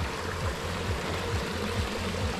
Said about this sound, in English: here you can see the hot water flowing through Kheer Ganga